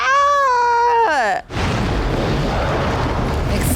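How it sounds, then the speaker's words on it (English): Explosions in the film Forrest Gump: a loud, high wail slides downward, then a sudden heavy blast gives way to a sustained, rumbling roar of debris and fire. "Explosions were so close to him as well."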